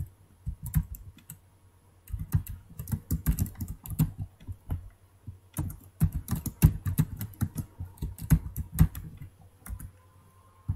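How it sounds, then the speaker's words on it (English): Close typing on a computer keyboard while writing Java code, steady bursts of rapid key clicks separated by short pauses. "Inside that I can type any message."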